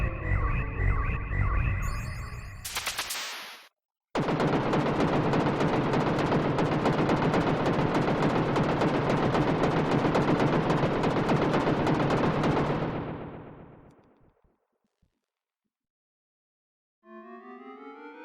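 A magic ball bomb blasts through a wall in the SNES game Dragon Quest 3: a long, loud, dense rumbling explosion roar that holds steady for several seconds, then fades away into silence before a short chiming game tone.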